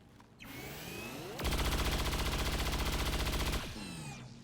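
Gunfire in XCOM 2 Long War of the Chosen, a sustained rapid automatic burst lasting about two seconds with an evenly pulsing rhythm, framed by rising and falling whirring mechanical tones before and after.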